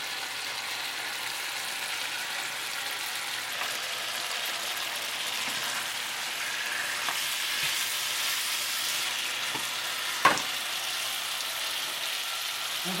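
Vegetables frying in sesame seed oil in a pan give off a steady, soft sizzle with light crackling and occasional stirring scrapes. The sound is close and fairly quiet, and no one talks.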